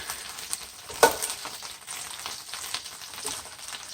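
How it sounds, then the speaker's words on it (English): Three tablespoons of butter hitting a hot pan while cooking chicken with garlic and cherry tomatoes: a soft, steady sizzle with one sharp pop near the start and light crackles, fairly quiet. "Now I add 3 tablespoons of butter"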